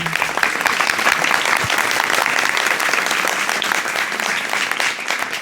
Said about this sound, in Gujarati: તાળીઓના ગડગડાટ બાળકો થવા જોઈએ.